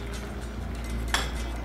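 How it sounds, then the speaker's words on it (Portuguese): A lid goes onto a cooking pot of rice on a low flame, making a single short metallic clink over a steady low kitchen background. "Vou tapar a panela para ela fazer esse trabalho aqui."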